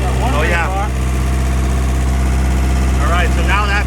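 A diesel generator used to charge a Tesla runs with a loud, steady low-pitched engine drone, holding an even note rather than clearly climbing, while people talk over it.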